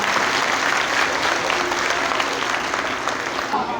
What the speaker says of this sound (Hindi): एक बार फिर भरपूर अंदाज से तालियां बजाइए